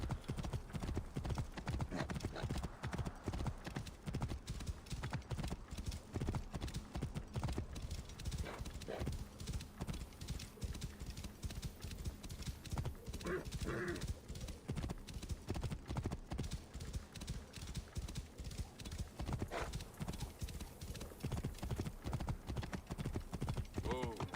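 Continuous, evenly paced clip-clop of horse hooves at a brisk gait in the video game Assassin's Creed Origins, close and steady throughout, with faint snorting in places.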